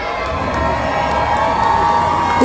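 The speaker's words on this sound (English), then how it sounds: "Jerry Frieder from Shark Attack, make some noise." Loud, sustained crowd cheering and shouting at a monster truck show in Crosby, Texas, with children's yells mixed in, swelling slightly toward the end.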